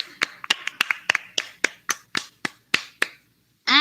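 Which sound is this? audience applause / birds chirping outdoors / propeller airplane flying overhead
audience applause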